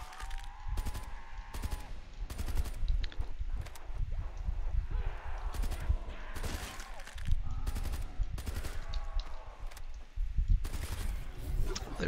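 KN-44 rifle fire in Black Ops 3 Zombies on The Giant map comes in repeated rapid bursts across the clip, with quieter game sounds between them and a faint voice underneath.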